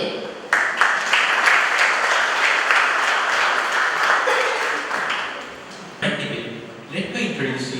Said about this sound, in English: Let's give a big applause to the both of teams and welcome them